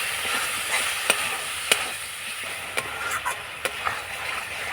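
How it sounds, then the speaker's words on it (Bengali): Spices with Maggi masala and tomato sauce fry in a pan under a steady hissing sizzle, while a spoon stirs them with several sharp, scattered scraping clicks close by. "এবার নাড়াচাড়া করে একটু মশলাগুলো কষিয়ে নেব।"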